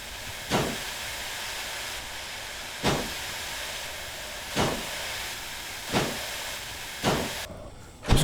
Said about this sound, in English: Just close that because that's blowing nothing but steam out now.